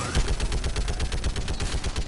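Rapid, continuous turret fire in Mass Effect, a fast chattering burst of automatic shots with a heavy low thump, loud and up close for the whole stretch.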